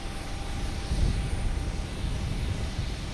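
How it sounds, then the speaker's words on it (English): Jet engine roar from a United Boeing 737 MAX 9 taking off on a long runway at Boston Logan Airport, a steady, heavy low rumble filling the whole stretch with no voices. "we have United taking off 4 right, the long one. It's a 737 MAX 9 heading to San Francisco."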